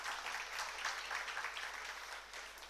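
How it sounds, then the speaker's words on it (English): Applause for school faculty and students at a ceremony, faint and distant, a steady wash of many hands clapping with slight surges. "This truly deserves a round of applause for the faculty and the students."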